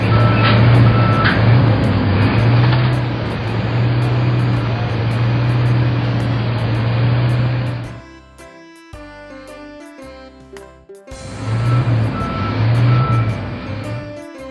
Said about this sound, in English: Crane forklift.